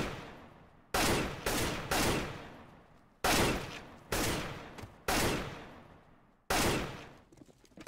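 Gunfire during Counter-Strike aim training: seven loud, sharp shots in uneven bursts, each ringing out and decaying before the next, with no talking.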